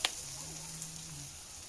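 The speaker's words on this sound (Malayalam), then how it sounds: "നല്ല പോലെ ചൂടാകുമ്പോൾ നമുക്ക് ഈ മാവിൽ കായ മുക്കിങ്ങായിട്ട് ഇട്ട് കൊടുക്കാം." Batter-dipped plantain fries in hot oil for an iftar snack, giving a faint, steady high hiss with a few soft crackles. It sounds quiet and even, with no voices.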